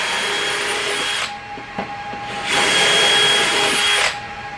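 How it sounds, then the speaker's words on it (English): A power drill bores pocket holes for screws into the rough side of boards for an above-ground garden bed, running in two loud, steady whining bursts with a short pause between them, close by. "we're creating our pocket holes"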